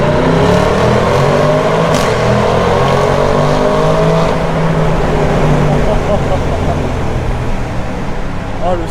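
An Audi RS6 C8 engine roars loudly and steadily with reverberant, enclosed echo in a tunnel, revving continuously as it drives.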